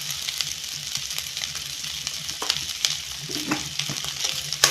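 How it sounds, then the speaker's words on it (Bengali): Potato filling for a rice-and-potato tiffin snack stirred in a hot pan, a steady frying sizzle with scattered scraping and clicking strokes of the spoon across the pan, close and continuous. "এই লবণটা দিয়ে এখন আমি ভালো করে এভাবে নাড়াচাড়া করে এই পুরটা বানিয়ে নিব।"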